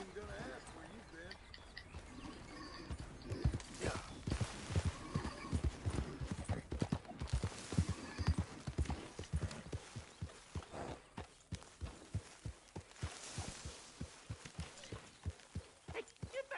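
Horse hooves clip-clop steadily on the ground in Red Dead Redemption 2, a regular close walking rhythm that runs throughout, with faint game voices and ambience around it.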